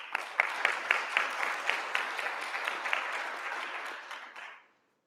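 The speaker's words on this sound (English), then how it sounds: "Let's give him a round of applause as well." Steady applause from a conference audience greeting a speaker, with distinct individual claps standing out over a continuous wash of clapping that gradually thins and then stops abruptly after about four and a half seconds.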